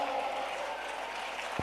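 Audience applause at a Jawahar High School quiz contest, a steady, fairly faint wash of clapping that fills the whole brief moment without any pause.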